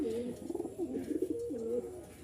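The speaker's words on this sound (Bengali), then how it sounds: "এখানে এক জোড়া কবুতর আছে" A pair of Giribaz pigeons, male and female, coo softly in a low, rolling rhythm, several throaty phrases repeating close by in a quiet setting.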